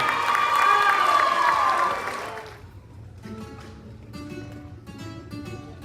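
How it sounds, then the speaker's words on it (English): An audience at a high school summer concert claps and cheers loudly for a couple of seconds, then the applause tapers off as scattered sounds and faint music take over. "Let's give her a big round of applause."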